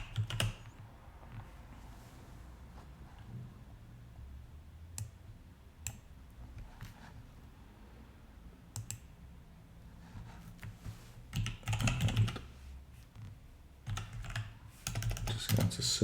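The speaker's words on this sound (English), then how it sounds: "type apple juice," Keys click on a computer keyboard as text is typed. Sparse single taps give way to quick bursts of typing, close and quiet, with no voice.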